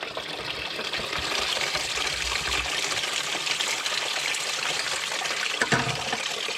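Engine coolant pours steadily out of a car engine after the water pump is removed, a continuous trickling gush close by with no voices.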